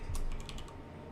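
Typing on a computer keyboard gives a quick run of light, close clicks over a low background rumble for about a second.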